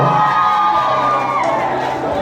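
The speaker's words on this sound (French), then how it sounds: "Sous vos applaudissements, mesdames et messieurs." A crowd at a graduation ceremony for a Caribbean professional academy cheers and shouts with loud, continuous voices and excited whoops, with clapping harder to pick out beneath the cheering.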